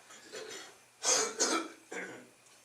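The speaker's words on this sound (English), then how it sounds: "see if I can put something in my mouth to clear my throat" Someone clears their throat with a few rough, hacking bursts, close and fairly quiet, with soft breathing in between.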